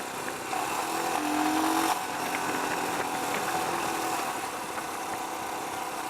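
A Royal Enfield Himalayan single-cylinder motorcycle engine idles and revs nearby, a steady thumping exhaust drone with a short rise in pitch early on.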